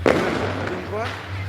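Fireworks explode outdoors at night, with a sharp burst at the start followed by fainter distant crackles while a voice talks over them.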